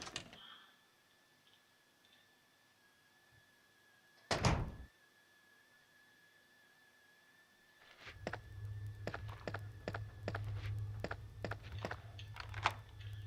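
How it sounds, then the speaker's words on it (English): Door opening in Resident Evil 2 on PS1: a sharp thud, then a faint hum, a loud clunk mid-way, followed by a run of clicks and knocks over a low rumble, with no talk. "We need to use the heart key on the other door,"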